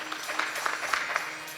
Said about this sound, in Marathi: त्यांच्यासाठी एकदा टाळ्या वाजवा वगैरे